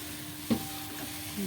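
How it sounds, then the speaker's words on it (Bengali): Mixed vegetables frying in oil with spices for a vegetarian dish, a soft steady sizzle with one brief clack of a stirring spoon near the middle. "এই যে সবজিগুলো ভাজা রয়েছে তোমরা দেখতে পাচ্ছ"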